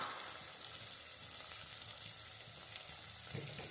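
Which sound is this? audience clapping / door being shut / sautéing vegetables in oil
sautéing vegetables in oil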